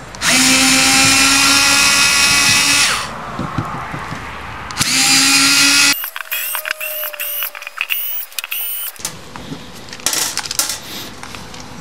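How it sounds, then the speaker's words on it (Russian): A DCA cordless screwdriver whirs loudly in sustained bursts while taking apart a DCA ADPB02-10 cordless ratchet, followed by a stretch of irregular metallic clinks and rattles from the parts being handled up close. "Ну и давайте разберем, используя аккумуляторную отвертку этой же компании."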